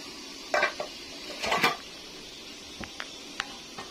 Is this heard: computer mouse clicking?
no